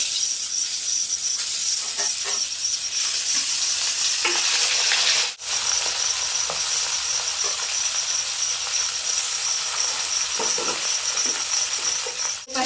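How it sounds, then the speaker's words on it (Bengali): Small mixed fish fry in hot oil in a wok, a loud, close, continuous sizzle with occasional stirring scrapes and a momentary dip in the middle. "তেল খুব ভালোভাবে গরম হয়ে গেছে এখন মাছগুলো দিয়ে দেবো"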